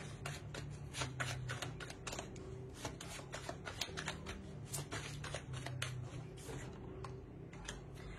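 Tarot cards are shuffled in quick rattling bursts, a steady stream of crisp riffles and flicks repeating close up across the whole stretch, with a low background hum underneath.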